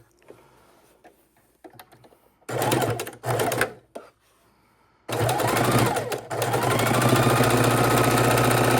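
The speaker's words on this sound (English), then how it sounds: "And sew at your 1/4 inch seams." A sewing machine stitches quilt blocks along quarter-inch seams, running in a couple of short loud bursts and then one long steady whirring run near the mic, with quiet handling noises in the pauses.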